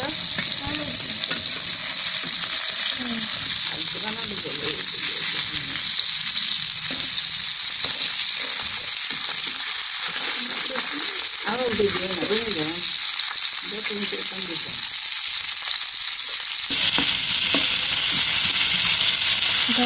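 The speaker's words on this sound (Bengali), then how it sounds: "তেল গরম হয়ে গেছে, এবার তেলে মাছ ছেড়ে দিচ্ছে আমাদের রাইসা।" Fish dropped into hot white oil in a wok sizzles and crackles steadily and close by, with the frying noise continuing under a voice talking intermittently, then turning brighter and more even near the end.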